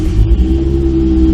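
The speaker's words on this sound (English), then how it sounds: "So let's go ahead and crank the car over." A Toyota Supra engine runs at a steady, loud, close rumble with a low droning hum, settled after starting up.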